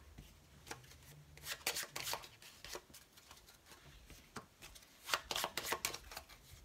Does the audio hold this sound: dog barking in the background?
no